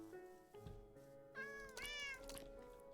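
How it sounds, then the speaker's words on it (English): A Minecraft cat meows twice, close and clear, with the second call longer and rising, over quiet game ambience and no speech. "Come here, cat."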